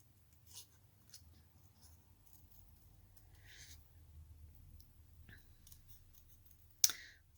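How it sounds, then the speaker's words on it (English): Scissors fussy-cut around paper card in a quiet room, a scattering of small soft snips and clicks with one sharper close snip near the end. "you're moving the paper, not so much the scissors"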